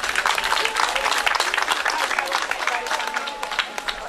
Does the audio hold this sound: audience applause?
yes